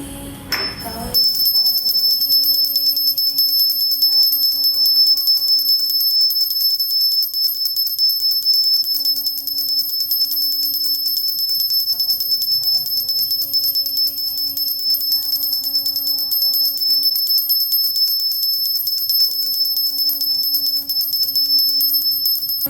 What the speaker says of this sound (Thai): เดี๋ยวเราทำการสั่นกระดิ่งให้ค่ะ